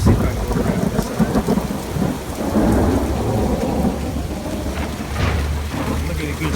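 A thunderstorm with heavy rain pours down outdoors on a lawn, with a steady loud roar of rain and deep rumbles of thunder rolling through, close and continuous.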